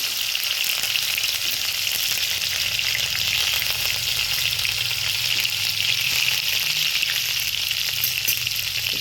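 Green chillies sizzle in hot oil with popped mustard seeds and cumin while kanda poha is being made, a loud, steady crackling fry close by with occasional stirring and no talk.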